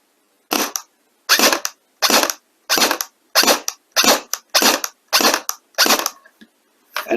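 An airsoft AK-47 dry fires on single shot with no BBs loaded, giving about ten sharp, evenly spaced mechanical snaps roughly half a second apart. Each snap is loud and close, with silence between.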